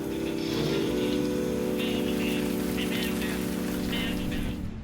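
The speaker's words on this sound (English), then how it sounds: "now it's really raining, so it's going to be really wet" Heavy rain pours onto a sailboat on the Chesapeake in rough weather, a dense, steady hiss filling the whole stretch with a low tonal hum running underneath.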